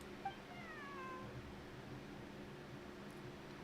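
A cat meows in a quiet indoor scene: one short, faint meow early on over a low steady hum, then only the hum continues.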